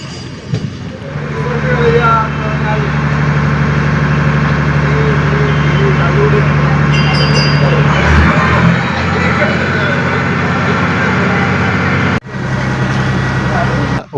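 A boat engine chugs steadily on a backwater canal in Alappuzha, a constant low drone running throughout, with a person talking over it and a brief break near the end.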